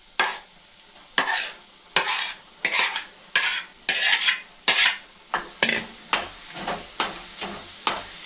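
Mashed eggplant stir-fried in a hot oiled pan for a rustic bharit, with a spoon scraping and stirring in regular strokes about every half second over a soft sizzle, close and loud, no voices.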